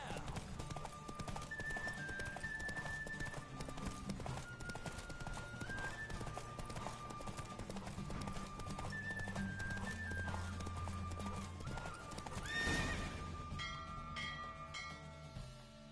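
Horse hooves galloping in The Witcher 3: Wild Hunt, a rapid, continuous clip-clop under a steady music bed, with a brief whoosh of rushing air near the end.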